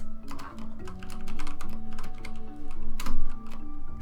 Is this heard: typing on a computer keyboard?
yes